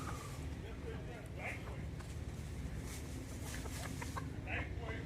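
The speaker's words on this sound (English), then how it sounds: "That would be a rooster walking around in the woods." A rooster wanders through woods near CoCoCay in the Bahamas, giving occasional soft clucks against steady outdoor ambience, while a person talks quietly in the foreground throughout.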